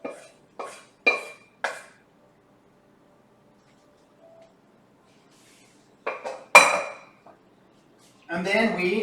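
A utensil scrapes and clinks against a pot while Spageskit Red is stirred, a few quick metallic taps, a quiet gap, then another cluster of clatter, close and fairly loud.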